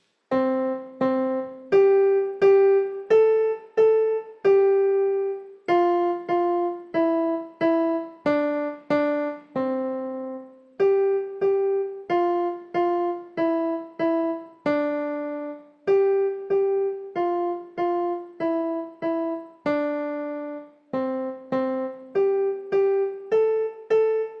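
A keyboard piano plays all six lines of a simple song in an even rhythm. Dozens of distinct notes follow one another, with brief pauses between phrases. The instrument is close and solo throughout, with no voices.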